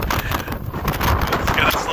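Strong gusty wind blasts straight into the microphone at an RC plane flying field, a dense, continuous roar with surges, and faint speech mixed underneath.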